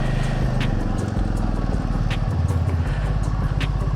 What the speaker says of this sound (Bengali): সেকেন্ড সার্ভিস করা হওয়ার পরে এখন বাইকের ইঞ্জিনের সাউন্ডটা অনেক স্মুথ হয়েছে